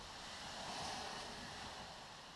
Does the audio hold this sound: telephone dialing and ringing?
no